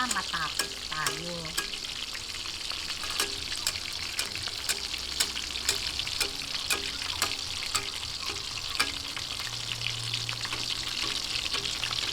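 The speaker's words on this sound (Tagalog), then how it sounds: "tuloy-tuloy lang po yung ating pagpiprito hanggang sa matapos tayo." Okoy, shrimp and vegetable fritters, fry in hot oil with a dense, steady sizzle and crackle, broken by occasional light clinks of a utensil stirring and basting, close and continuous throughout.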